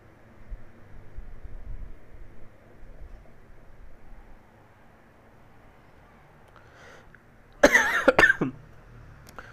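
A sick person coughs in a short, harsh burst of a few close coughs, following a stretch of low background noise.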